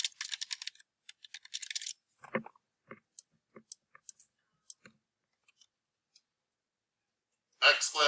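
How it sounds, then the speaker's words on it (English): Typing on a computer keyboard: rapid bursts of light clicking key presses, then scattered single clicks spaced apart, with a brief stretch of talking near the end. "I'm typing it up."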